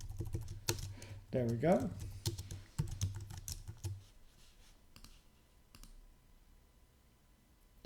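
Rapid typing on a computer keyboard during a live coding session, bursts of close clicking keys that fade into sparse taps, with a brief spoken remark over it.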